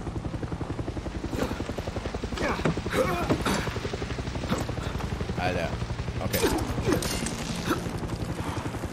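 Helicopter in the video game Far Cry 6, a loud rhythmic rotor thump pulsing steadily throughout, with bursts of gunfire-like clatter and someone talking briefly over it.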